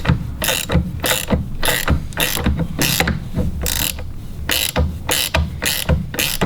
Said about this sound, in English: Now we're going to pull the nut and washer off of the support rod itself.